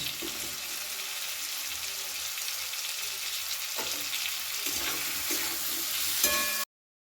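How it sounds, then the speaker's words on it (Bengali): Diced onions sizzle and fry steadily in a hot pan, with intermittent scraping clicks as they are stirred, close and continuous with no talking. "এবার দিয়ে দেব ডুমো করে রাখা পেঁয়াজ"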